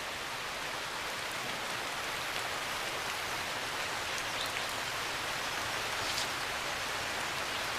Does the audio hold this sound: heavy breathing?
no